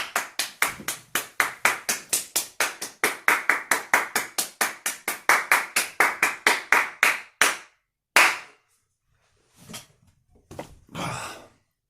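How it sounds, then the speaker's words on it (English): A group at the end of a seniors' strength exercise class claps in a steady rhythmic burst of about thirty even claps, then stops, followed by a few scattered sighs and breaths. "Give yourselves and everyone else a clap."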